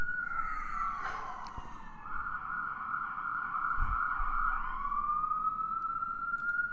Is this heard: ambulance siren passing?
yes